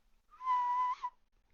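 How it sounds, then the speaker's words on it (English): A single whistled note holds steady for about half a second and then ends in a short upward flick. It is clear and alone against near silence. "you hear that whistle"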